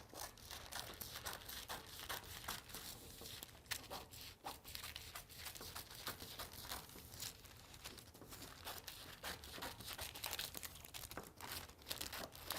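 Two layers of parchment paper crinkled and handled over a foil-covered board, a soft, continuous rustling and crackling close by, quiet and without talk.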